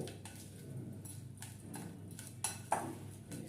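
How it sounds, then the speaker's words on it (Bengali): A spoon clicks and taps against a bowl in a steady rhythm while chopped raw mango and green chili are mixed for an instant pickle, quiet and close, with a couple of sharper clinks near the end. "এবার এখানে আম আর কাঁচা লঙ্কাটা যে চপ করে রেখেছি, এবার একটু ভালো করে মিশিয়ে নেব।"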